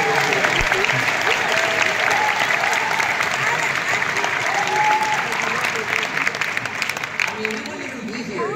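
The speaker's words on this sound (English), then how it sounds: "Let's give a big hand and a round of applause to all of our creators here." A large crowd at a trading card event applauding creators, a thick sustained wash of clapping with cheers and voices mixed in, loud and steady across the whole stretch.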